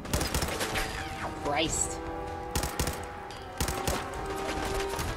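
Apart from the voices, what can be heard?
machine gun turret firing in Fallout 4 video game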